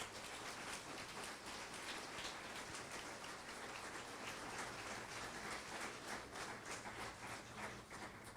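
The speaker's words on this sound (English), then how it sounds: "if we can give these boys and girls another real big round of applause" Sustained applause from an audience at an elementary school fifth-grade graduation, dense even clapping that fills the room steadily for the whole stretch without a pause.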